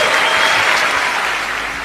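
An audience at a Tony Robbins motivational seminar breaks into loud, dense applause, a thick wash of clapping that stays strong and then eases slightly toward the end.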